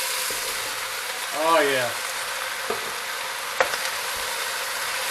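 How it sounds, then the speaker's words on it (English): Onions, bell peppers and mushrooms with fresh oregano sauté in a pan for chicken cacciatore, a steady close sizzle that runs throughout, with a brief spoken interjection and a couple of small clicks. "the onions and bell peppers are sauteing real good"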